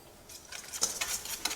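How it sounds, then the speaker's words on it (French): Eggs and sugar being whisked in a large bowl, a brief run of light, quick metallic clinks and scrapes close by, with no voices. "On commence par fouetter les œufs et le sucre"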